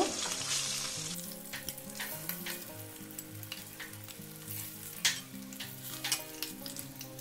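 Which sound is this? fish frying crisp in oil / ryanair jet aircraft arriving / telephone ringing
fish frying crisp in oil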